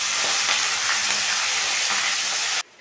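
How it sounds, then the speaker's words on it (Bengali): Bengali five-spice, dried red chillies and bay leaves dropped into hot oil for tempering mung dal with spinach: a loud, steady, close sizzle with a faint crackle that cuts off abruptly near the end. "5 ফোড়ন, শুকনো লঙ্কা, তেজপাতা দেব।"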